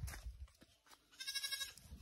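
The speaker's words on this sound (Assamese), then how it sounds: "ইয়াৰ পৰা ছাগলী চিঙিছে গাঁৱত" A goat bleats in a village, a short run of wavering, nasal cries rising partway through, close by over low rustling and handling noise.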